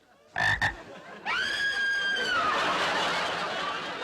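Frogs croak in a comedy scene, two short croaks followed by a long, drawn-out croaking call that slides downward over a murmur of background noise.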